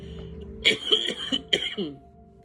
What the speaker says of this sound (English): I apologize for clearing my throat